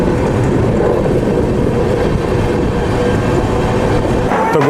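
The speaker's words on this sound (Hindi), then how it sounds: "हम पहुंच गए हैं न्यू दिल्ली रेलवे स्टेशन।" Steady loud rumble of trains at New Delhi railway station, a continuous rolling railway roar with faint clatter that fills the whole stretch without a break.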